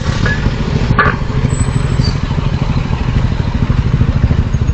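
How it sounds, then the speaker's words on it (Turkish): A loud motorcycle with an aftermarket exhaust rumbles steadily up close, its exhaust throbbing with a rough, continuous growl and no voices. "Bu egzoz ne?"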